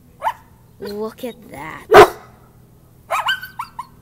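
A pet dog barks in sharp, excited bursts at a coyote in a small wooded area outdoors, several loud barks mixed with someone talking.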